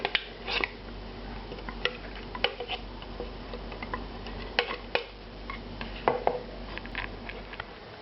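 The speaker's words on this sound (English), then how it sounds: "this has to be passed through a sieve, rubbed through a sieve" Tonkatsu sauce puree is rubbed through a sieve, giving faint irregular scraping and ticking clicks of utensil against mesh, scattered taps over a quiet low hum.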